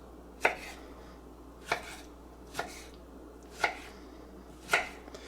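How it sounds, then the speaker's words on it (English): Knife dicing tomatoes on a cutting board for bruschetta, five crisp, evenly spaced chops about a second apart, close and clear against a quiet kitchen background. "all you want to do is dice the tomatoes"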